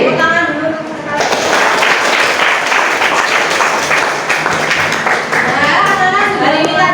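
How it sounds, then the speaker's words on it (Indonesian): A high school history class claps together, a loud, dense burst of applause that starts suddenly after a spoken line and fades back into talking near the end. "Tepuk tangan dulu untuk sekali."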